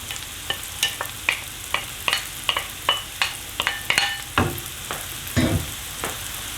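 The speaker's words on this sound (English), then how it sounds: "carry on frying the onion, garlic and the mushroom" Onion, garlic and chestnut mushroom sizzle in a pan with steady crackling, punctuated by regular scraping knocks of stirring; close and moderately quiet, no talking.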